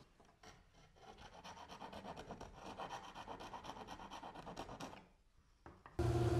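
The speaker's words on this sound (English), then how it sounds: "any place it got hung up I smoothed it out with a rasp" Rasp smoothing the edges of a wooden router template for a bookcase side, a steady rhythmic scraping of quick strokes lasting several seconds, close and moderately loud, then stopping.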